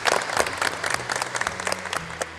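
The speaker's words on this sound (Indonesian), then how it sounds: "Tepuk tangan untuk kita semua" A classroom of vocational school automotive students claps together, a dense burst of applause that carries on steadily for a couple of seconds.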